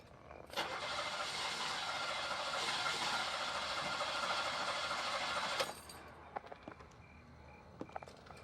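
A car engine cranks on and on for about five seconds and then cuts off, followed by quiet with a few faint knocks.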